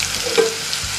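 Garlic dropped into hot oil for a Marathi turichya ghugrya dish, giving a brief steady sizzle with a short stir near the middle, close and alone with no talk.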